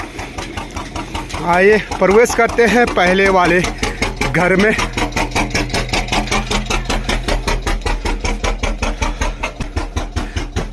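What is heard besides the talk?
engine-driven village flour mill running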